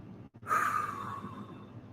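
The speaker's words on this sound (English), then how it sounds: "Breathing is the trick. Exhaling." A single breathy exhale during a stretch in a morning workout, soft and close, fading gradually after a brief catch of breath.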